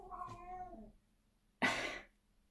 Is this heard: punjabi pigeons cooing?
no